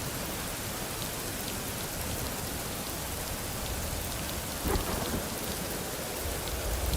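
Heavy rain pours steadily in a video game thunderstorm in Rising World, a dense continuous hiss with a low thunder rumble swelling briefly near the end.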